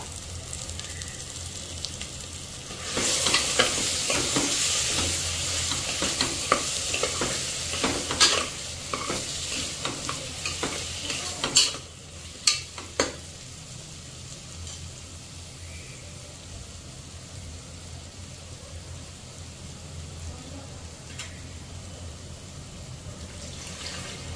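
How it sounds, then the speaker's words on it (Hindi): Potatoes and spices fry in a pan with a steady sizzle, busy stirring and clattering scrapes through the middle stretch, then settle into a quieter, continuous hiss. "आपण जे बटाटे आणि मसाला टाकलाय त्याला मस्त असं फ्राय करून घ्यायचंय."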